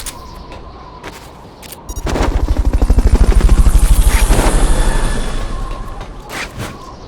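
A helicopter from the video game Metal Gear Solid: Peace Walker thumps loudly, its rapid rotor beat swelling up close and then fading slightly, with a sharp burst near the start and no talking.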